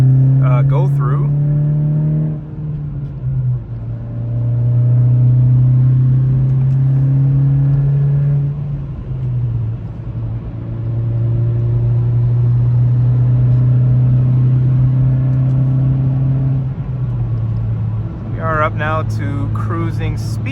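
A 2023 Acura Integra with an aftermarket exhaust and upgraded rear motor mount cruising on a highway at about 130 km/h, giving a steady, loud low engine and exhaust drone with road rumble, shifting pitch slightly as speed changes.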